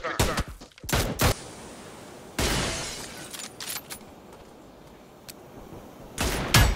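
Bursts of rapid gunfire and single sharp shots from the PUBG New State battle royale game, loud and close, with several volleys separated by quieter gaps.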